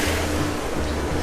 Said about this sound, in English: This is a Flowrider. It's a surf simulator.